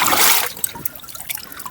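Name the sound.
water pouring from a container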